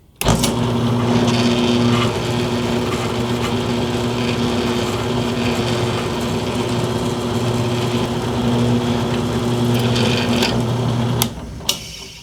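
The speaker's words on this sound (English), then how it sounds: "And it should drill a hole straight down." A power drill bores a hole straight down into a prop claw blade, running steadily for about eleven seconds, its motor whine constant and loud, then cuts off abruptly.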